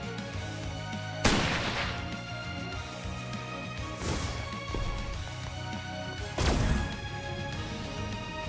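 Three sharp sniper rifle shots ring out in the video game StarWard, spaced a few seconds apart, each a loud crack with a short tail over a steady electronic music bed.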